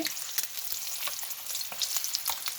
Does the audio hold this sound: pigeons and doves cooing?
no